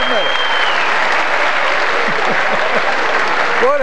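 An audience at a live comedy and music broadcast breaks into loud, sustained applause that fills the whole moment, with a few whistles and cheers rising over the clapping.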